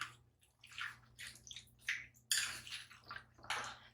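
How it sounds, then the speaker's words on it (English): A spoon stirs hamburger soup in a slow cooker, making soft, wet sloshing and scraping swirls in uneven bursts at close range, faint and intermittent. "I'm going to give this a quick stir."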